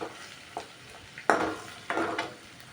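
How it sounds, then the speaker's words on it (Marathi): Okra frying in oil in a pan is stirred, giving soft sizzling broken by a few sharper scraping and clattering bursts, close and fairly quiet, with no talking. "तेलामध्ये तळून घेऊ"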